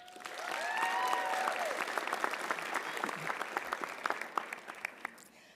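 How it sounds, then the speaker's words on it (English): A graduating class at a celebratory graduation ceremony breaks into sustained applause, swelling quickly then thinning into scattered individual claps toward the end, with a few whoops and voices mixed in the crowd. "please give yourselves a round of applause"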